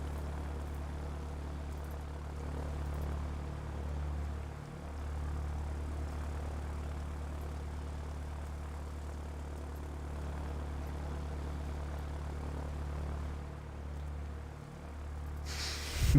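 A Spitfire fighter's propeller engine drones steadily in the airfield-building game Ground of Aces, a low continuous hum with the pitch dipping briefly twice, faint and alone.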